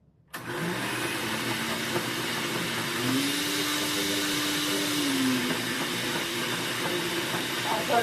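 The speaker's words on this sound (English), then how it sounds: "I don't think I've ever used a food processor." A food processor runs on low while mixing cottage cheese chocolate ice cream, a steady whirring motor hum that holds for several seconds with a brief rise in pitch partway through.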